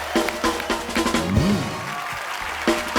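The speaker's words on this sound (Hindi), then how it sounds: "हर्ष और सैमी के लिए जोरदार तालियां।" A studio audience at a TV comedy show claps in dense, steady applause, with sharper individual claps and a faint tonal sound mixed in.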